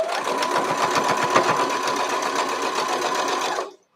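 A sewing machine stitches a flying geese quilt block, a close, steady, rapid mechanical chatter that runs evenly for several seconds and then stops abruptly.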